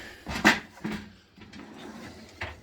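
A drawer in a parts cabinet holding 2006 Honda CR250 dirt bike parts slides and bumps shut, with one sharp knock followed by softer rattles and thuds in a quiet workshop.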